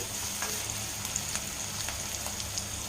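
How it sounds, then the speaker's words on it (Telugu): Onions, dried red chillies and curry leaves frying in oil in a pan, a steady close sizzle with faint crackles and light stirring scrapes throughout. "ఆనియన్స్ ఎండుమిర్చి కరివేపాకు ఇవి బాగా వేయించుకో"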